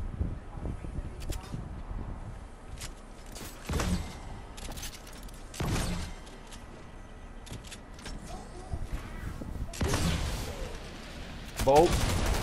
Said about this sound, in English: people are shooting at you